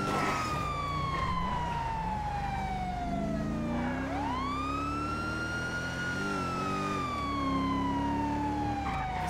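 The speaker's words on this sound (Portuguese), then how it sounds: "você desliga a sirene aqui" A police car siren in the video game GTA 5 wails steadily and loudly, its pitch sweeping slowly down, jumping back up and sliding down again over a constant engine-like rumble, with no talk.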